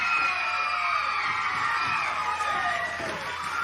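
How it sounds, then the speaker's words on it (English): A wrestling arena crowd at a 1982 Mid-Atlantic match roars steadily as a wrestler escapes a hold, with dense cheering, whoops and shouts sustained at high level throughout. "And the crowd loves it."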